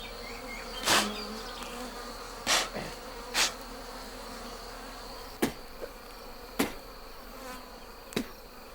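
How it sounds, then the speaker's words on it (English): Wild bees buzz around their nest during a traditional N'Dorobo honey hunt in Kenya. A steady insect drone runs throughout, broken by several loud, sharp knocks and cracks spread across the clip. "the bees are still lively and fight to defend their nest"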